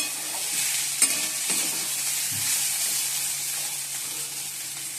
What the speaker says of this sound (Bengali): উচ্চ আলু ভাজা বসে দিয়েছি